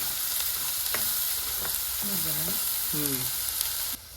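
Shevala, a wild vegetable, fries with ground masala paste in a pan, giving a steady, loud hiss and sizzle throughout. Faint brief tonal chirps sound in the background.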